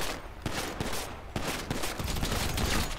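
Rapid bursts of gunfire crackle in GTA 5 Online, dense overlapping shots in an uneven fusillade, close and loud throughout.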